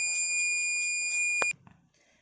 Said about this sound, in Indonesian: buzzer-nya akan berbunyi sebagai alarm